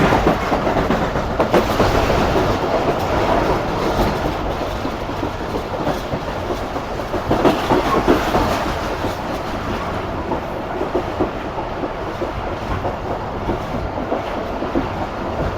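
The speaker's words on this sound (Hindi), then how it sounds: "काफ़ी अच्छी स्पीड में ट्रेन शिफ्ट कर रही है शहदादपुर को।" The Rehman Baba Express rolls at speed toward Shahdadpur on a winter journey, heard from inside the carriage as a loud, continuous rumble with steady clickety-clack of wheels over rail joints and no talking.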